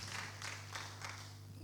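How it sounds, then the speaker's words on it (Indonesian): Faint applause from a church congregation during a sermon, a soft rolling patter of claps set against a steady low hum. "Tepuk tangan buat Kak Edo boleh?"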